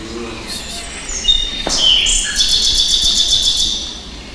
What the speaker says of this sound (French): Oiseau.